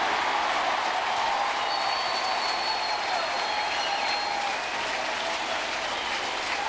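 A baseball stadium crowd at a Padres versus Cardinals game breaks into sustained applause, a dense, even wash of clapping and cheering that holds steady throughout, heard from within the stands.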